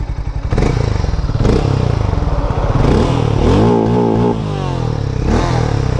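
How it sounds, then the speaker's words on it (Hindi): A Hero Mavrick 440 motorcycle engine and exhaust rev up close and loud, starting with a lumpy idle pulse, then rising and falling throttle blips with a rapid, rough thumping beat. "तो ऑलमोस्ट सेम ही साउंड है, बट थोड़ा सा यहाँ पर डिफरेंस देखने को मिलता है क्योंकि इसका जो एग्जॉस्ट वगैरह का शेप है ना थोड़ा अलग है।"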